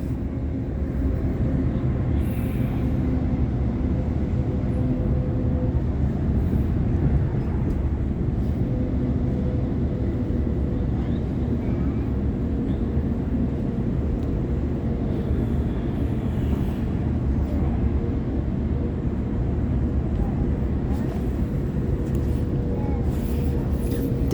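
A Sydney Trains T8 B-Train rumbles along steadily, a constant loud interior roar and rail noise with faint tonal whine, heard from on board without pause.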